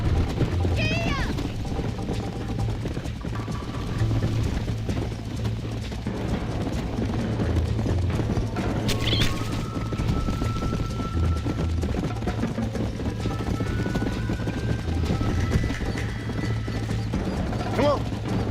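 Horse hooves clip-clop steadily while riding in the Red Dead Redemption game, a rhythmic thudding gait under game music and ambient effects, with occasional voices talking over it.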